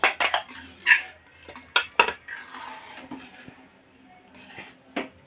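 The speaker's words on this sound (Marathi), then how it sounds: "असं थोडंसं मिक्स करून टाकायचं आहे" A spoon stirs and mixes dal in a cooker pot, giving several sharp metallic clinks and scrapes against the metal, loud bursts separated by quieter rustling and soft stirring.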